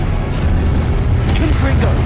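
Expelliarmus spell cast in Hogwarts Legacy, a continuous dense burst of magical game effects with a booming, mechanical rumble that swells slightly partway through and sustains to the end.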